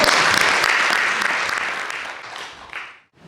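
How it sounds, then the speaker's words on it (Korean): An audience at a Korean traditional gagok music concert applauds, loud full clapping that steadily fades and dies away within a few seconds. "박수 이미 나오셨네요."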